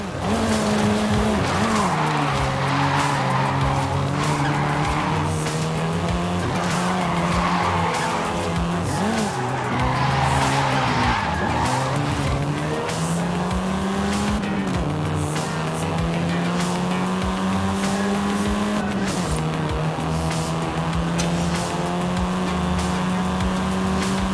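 A car in the racing game Forza Horizon 5 drives with a sustained engine drone and repeated loud tire squeals as it slides and skids, the pitch rising and falling through turns with no talk.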